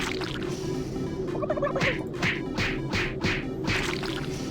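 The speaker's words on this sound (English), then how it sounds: "Each turkey takes 6 punches to explode." Turkeys gobble in the Doom 3 BFG Edition Turkey Puncher minigame, a rapid series of bubbly, warbling gobbles repeating about every half second over a steady game background hum.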